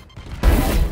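A sudden grenade explosion in the video game Valorant, a single loud, close blast with a heavy low-end burst that erupts after a brief quiet moment.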